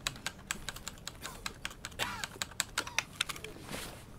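Sharp clicking and tapping from a computer keyboard or mouse during a video game, arriving as a brisk run of close, crisp clicks in an irregular rhythm, with no talking over them.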